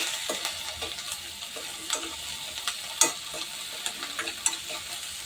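Onion and garlic paste sizzle and fry in a pan for pav bhaji, a steady bright crackle punctuated by occasional stirring scrapes and ticks, close and moderately loud with no talking.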